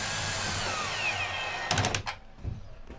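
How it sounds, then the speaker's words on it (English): Electric screwdriver on a low torque setting driving screws for roof rails on a Sprinter van, a steady close motor whir ending in a few short sharp clicks and knocks. "I'm gonna follow Matt with a electric screwdriver on a lower torque setting"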